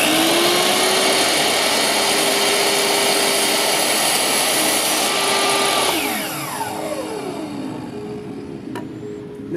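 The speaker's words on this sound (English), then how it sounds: "Now I'm going to cut this real slow so it doesn't tear the wood." A power saw slowly cutting through a wooden bed slat, a loud steady whine that holds for about six seconds, then drops in pitch as the motor winds down after the cut.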